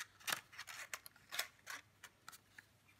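Scissors snipping paper and card during a Halloween Stampin' Up paper craft, several quick, close, crisp cuts at an uneven pace with quiet gaps between them.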